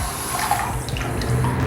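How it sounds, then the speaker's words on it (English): Hot water runs from a sink tap as makeup brushes are wetted under it, a steady close splashing stream that continues without pause and no talking. "I just open the hot water tap and get these wet"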